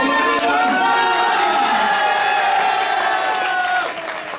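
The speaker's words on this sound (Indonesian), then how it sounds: "Aplaus buat Kumpul" A crowd of students at a scholarly religious debate applauds and cheers, a dense steady wash of clapping with raised voices that fades slightly near the end.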